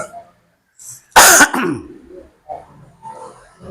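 A single sharp cough or throat-clear from the audience at an Islamic study lecture bursts out, loud and close, between quieter stretches of murmuring speech.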